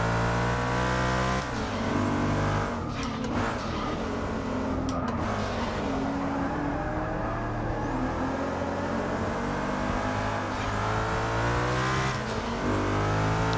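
Noble race car engine in Forza Motorsport 6, loud and close, droning and revving with rising and falling pitch sweeps and brief dips between gear changes, continuing steadily for over ten seconds with no voices.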